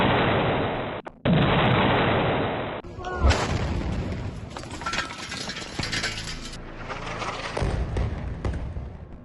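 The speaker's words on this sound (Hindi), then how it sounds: "टारगेट लॉक होता है और तभी होता है एक जोरदार धमाका।" A loud, booming blast from an Israeli drone strike on a Hezbollah military site erupts and rolls on with rumbling debris and crackling noise, following a sharp cut in the dense background sound.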